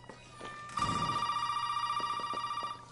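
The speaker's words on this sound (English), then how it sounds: "Answer the damn phone." Telephone ringing in the survival horror game Resident Evil 7, a steady repeating electronic ring with a sustained tone and rapid pulsing, loud and alone after a brief quieter lead-in.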